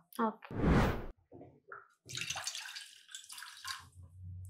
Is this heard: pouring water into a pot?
yes